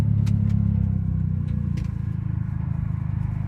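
A 25-year-old Subaru Sambar idles at a red light with a steady, close, low engine rumble and a fine even pulse, holding level throughout, with no talking.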